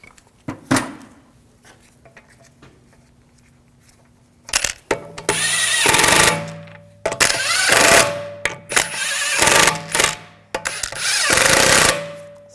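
A power tool runs lug bolts into the wheel of an Audi S4, a few faint clicks and then a string of loud whirring bursts with short pauses between them, close and without speech.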